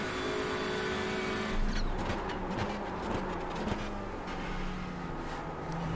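Audi race car engine pulling under power in iRacing at Okayama, a steady droning motor note rising in pitch as the throttle comes on, with a brief louder surge and faint tire noise, alone without talk.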